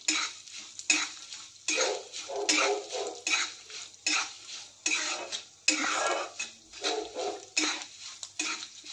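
Sesame seeds and curry leaves are dry-roasted in a pan, with repeated scraping and stirring strokes in bursts, a faint crackle under them and no talk.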